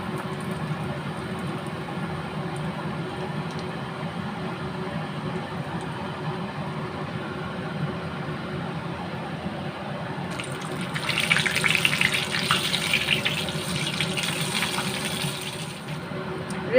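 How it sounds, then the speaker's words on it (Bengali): Vetki fish fry pieces deep frying in hot oil in a home kitchen. A steady, close hiss and sizzle runs throughout and grows brighter and louder toward the end. "ফিশ ফ্রাইগুলো আমি ডিপ ফ্রাই করে নেব।"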